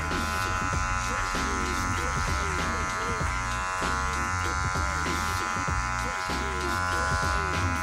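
Electric hair clippers with an open taper lever buzz loudly and steadily close by as they cut hair against the grain during a bald fade, with the buzz wavering slightly as they move through the hair.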